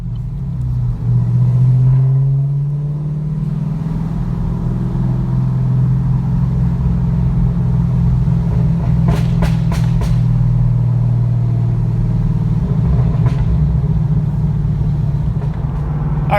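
A car cruises along with a steady, close engine rumble heard from inside, holding an even drone throughout, with a few brief clicks partway through.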